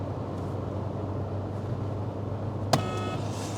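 A 2023 Mahindra PikUp ute drives along with a steady engine and road drone from inside the cabin, moderately loud and even, with a brief sharp click near the end.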